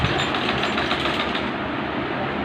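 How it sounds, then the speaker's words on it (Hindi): A sewing machine runs steadily at close range while stitching lace onto a girl's frock, giving a continuous fast mechanical whir with a rapid rattling texture and no talking over it. "बच्ची की फ्रॉक सिलाई कर इस पर लेस लगा रही है"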